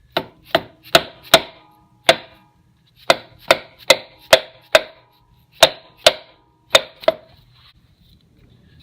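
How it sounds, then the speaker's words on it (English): A pin is tapped into a hole during crank seal repair on a 1984 Yamaha G1 golf cart. About fifteen sharp, close metallic taps come in uneven bursts with short pauses between them. "I'm just going to gently tap it."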